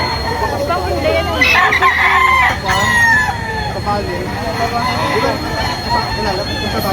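A rooster crows and chickens cluck amid the busy din of a poultry market in Padre Garcia and Lipa City, Batangas, with background chatter and mechanical noise.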